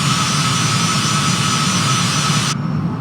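A loud, steady roar from an airplane engine fills the cabin during takeoff and climb, with a constant broadband drone and a sustained tone that cuts off near the end.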